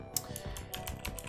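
Fingers type quickly on a computer keyboard, a rapid run of close, crisp key clicks and soft thuds with no talking.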